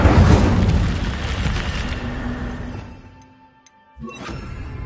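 A fire spell cast in Hogwarts Legacy bursts out as a loud, broad roaring whoosh that fades over a few seconds, then a short sharp flare sounds near the end.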